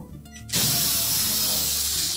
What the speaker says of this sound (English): we'll remove the mounting screw for that hinge